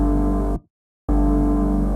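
Thick layered synth pads from a pop production, a saw pad, distorted guitar pad and a crunchy high-end noise layer under reverb, sustain loudly and evenly, cut out to silence for about half a second, then return at full level.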